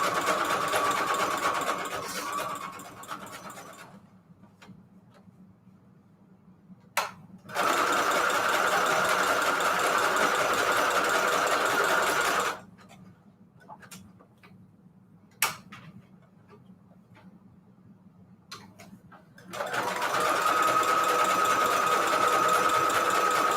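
A sewing machine runs zigzag stitches along the edges of a vellum pocket in three long bursts of rapid ticking hum, separated by quiet pauses with faint single clicks.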